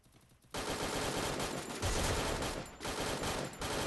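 Bursts of automatic gunfire in a battle royale video game break in abruptly after a quiet moment and rattle on loudly and densely, with short gaps between volleys.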